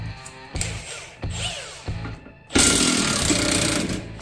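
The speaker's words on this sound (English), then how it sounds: "use an 18mm socket on my impact wrench to remove the rear bolts" An impact wrench with an 18mm socket removes the rear lower control arm bolts on a 2012 Mustang GT: three short, loud rattling bursts, then a longer sustained hammering run, all close up.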